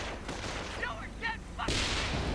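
Recoilless rifles fire in a strategy war game, several sharp blasts cutting through steady battle noise, with a rising roar of explosions near the end.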